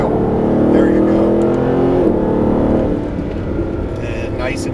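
A Mercedes-Benz SLS AMG engine accelerates hard on throttle, a loud, rising, rumbling drone heard up close. It eases off partway through while an instructor talks over it.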